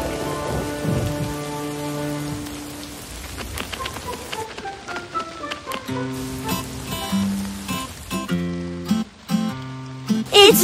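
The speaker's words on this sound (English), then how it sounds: "It's raining, it's pouring" Cartoon rainstorm with steady pattering rain and rumbling thunder, set under tonal music with sustained notes and sharp accents throughout.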